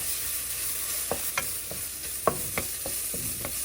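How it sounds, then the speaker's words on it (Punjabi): Ginger roasting in a pan over low-to-medium gas for an apple chutney: a steady soft sizzle with about a dozen sharp scraping clicks as a spoon stirs, close and fairly quiet, no voices. "ਅਦਰਕ ਥੋੜਾ ਜਿਹਾ ਭੁੰਨ ਲੈਣਾ ਹੈ"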